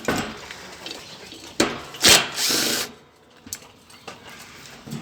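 A power drill backs out the screws of a ceiling fan being scrapped, giving a few short ratcheting bursts and clicks with pauses between, fairly close and moderately loud.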